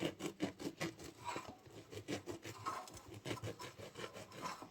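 A knife saws through a loaf of bread to cut off its top lid. The steady back-and-forth rasping strokes are close and quiet, with no talking.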